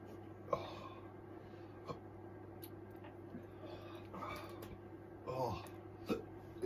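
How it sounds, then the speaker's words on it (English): Several sharp, abrupt hiccups break out at irregular intervals over a low steady hum, with faint breathing between them. "These hiccups look good on camera."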